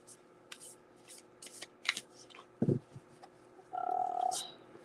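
Tarot cards are shuffled by hand in short, crisp riffling bursts with soft taps and handling noises, close and fairly quiet, with a brief murmur of a voice in between.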